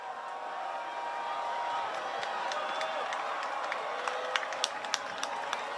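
Stadium crowd at a high school football game between Millbrook and Leesville Road, with a steady broad murmur of many voices from the stands and scattered sharp claps growing more frequent toward the end.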